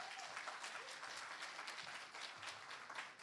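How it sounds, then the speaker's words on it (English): Audience clapping at a brand launch conference, a dense, steady crowd applause that goes on throughout, heard from some distance at a fairly quiet level. "can we give a round of applause for everyone who's here today?"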